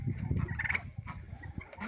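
Young blue slate turkeys gobble and cluck close by at a feeder in a busy, irregular burst of calls, with a few sharper squawks and no one talking.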